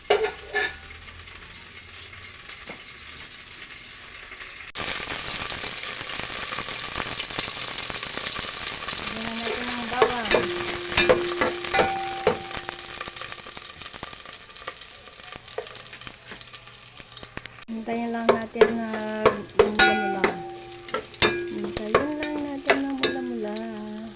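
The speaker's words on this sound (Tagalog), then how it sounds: "Lagyan na natin ng mantika. Yan, mantika pa lang nilalagay ko guys." Cooking oil sizzles loudly in a frying pan at close range, a continuous hiss overlaid with stirring, scraping and occasional metallic clinks of a utensil against the pan, with no voices.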